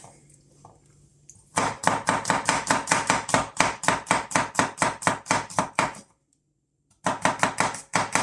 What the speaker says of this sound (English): So the first thing to do is to cut up the vegetables.